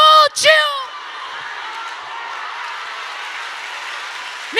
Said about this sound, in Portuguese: Misture essas palmas com glória a Deus e